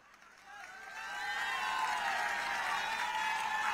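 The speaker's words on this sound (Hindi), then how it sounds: "आपने ताली बजाई" A rally crowd in Chhattisgarh breaks into applause at a political campaign event, the clapping swelling from a quieter start into a sustained, dense roar of many hands that continues steadily.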